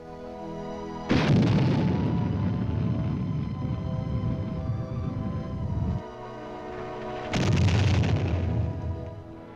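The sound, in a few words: modern artillery firing, Lacrosse and Honest John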